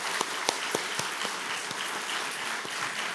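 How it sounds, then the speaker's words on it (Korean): A church congregation applauding an elder during Sunday worship, steady clapping from many hands with individual claps distinctly audible in a loose rhythm, moderately close in a reverberant hall. "우리 장로님 감사하다고 힘내시라고 우리 한번 박수 한번 쳤으면 좋겠습니다"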